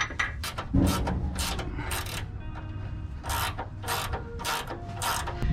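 Ratchet wrench clicking as it turns a bolt on the suspension of a 1990 truck, heard as loud bursts of rasping, ratcheting strokes, close up and alone.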